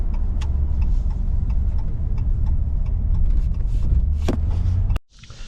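A fourth-generation Ram 1500 Express pickup on a short drive gives a steady, loud low rumble of road and engine noise from inside the cab, with faint ticking, before the sound cuts off abruptly.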